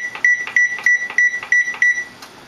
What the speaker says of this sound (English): I'm going to set my timer to 10 minutes.